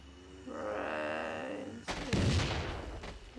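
An explosion booms out in a zombie video game, a sudden heavy blast following a sustained droning tone, then rumbling debris fading out, with a brief voice nearby.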